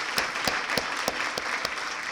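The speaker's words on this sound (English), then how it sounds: "Big applause, please." Steady applause from a crowd, with sharp individual claps standing out in a regular rhythm over the dense clapping.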